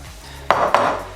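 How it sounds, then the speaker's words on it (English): Blondie batter being mixed in a bowl: two close, sharp scraping knocks of a utensil against the bowl in quick succession, each trailing off, with no one talking. "now we'll mix that together"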